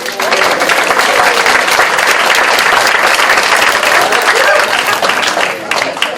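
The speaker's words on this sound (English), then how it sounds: "You could give them a big round of applause now." Loud, sustained applause from an audience at a mayoral candidates' event, dense clapping filling the whole stretch without a break.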